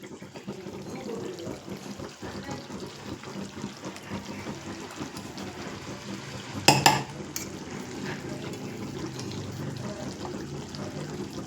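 Ground masala paste dropped into a simmering cooking pot and stirred, soft wet scraping and bubbling throughout with a brief sharp clatter of the spoon against the pot in the middle.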